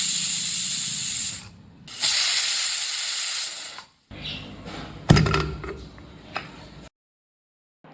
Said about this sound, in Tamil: குக்கரை மூடி 2 விசில் விட்டுக்கலாம்